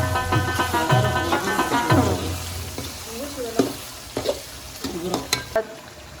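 Beef nihari masala being stirred and fried in a pot, a steady loud sizzle with repeated scraping stir strokes, the frying easing off toward the end.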